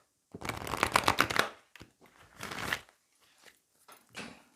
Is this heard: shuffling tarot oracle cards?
yes